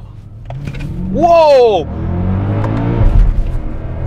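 Mercedes-Benz E63 AMG pulling hard from first gear in manual mode, its deep engine drone steady and close throughout, with a person exclaiming loudly over it partway through.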